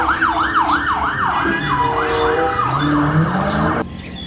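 A white toy police car's siren wails in a fast, repeating up-and-down sweep, then shifts to slower rising tones before cutting off abruptly near the end, loud and close with no talking.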